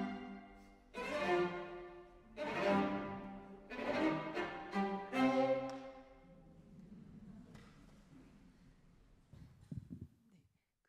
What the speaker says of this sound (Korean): 얼음이 깨지는 소리 들려드릴게요.